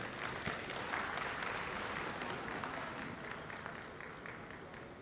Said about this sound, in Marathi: यांच्याकडे एकदा जोरदार टाळ्या झाल्या पाहिजे